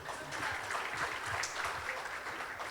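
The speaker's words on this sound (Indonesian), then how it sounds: "Aduh, biar rame, tepuk tangan lagi dong." Audience applause at an investment forum in Solo, a broad patter of many hands clapping at once, steady and fairly quiet, heard from within the hall.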